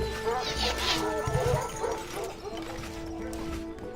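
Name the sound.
dogs barking in video game Stronghold 2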